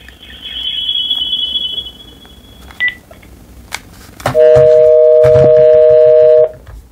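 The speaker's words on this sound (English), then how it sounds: "And here's the incoming call." Landline phone ringing on an incoming call through the line port of a D-Link DWR-M972 4G+ router, a loud steady electronic ring tone after a few softer beeps and clicks, alone in a quiet room.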